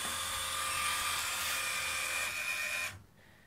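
A linear actuator motor drives a robotic arm under closed-loop potentiometer feedback, giving a steady, fairly loud high-pitched electric whine that runs for about three seconds and then stops abruptly, leaving quiet room noise.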